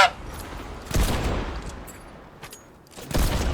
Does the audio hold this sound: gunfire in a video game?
yes